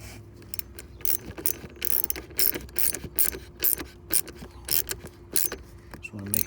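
A ratchet tightens the negative battery terminal on an Alfa Romeo Stelvio, giving repeated bursts of sharp clicking close by in an uneven rhythm, with occasional metallic jangles.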